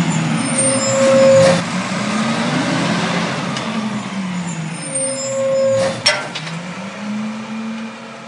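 A truck in a horror animation rumbles by with an engine drone and lets out sharp, hissing bursts of air brake, one early and another around the middle, loud and close.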